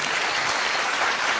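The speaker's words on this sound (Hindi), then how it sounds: "जोरदार तालियां" A large audience at a Star Guild awards show breaks into loud, sustained applause, steady dense clapping filling the whole moment with no voices over it.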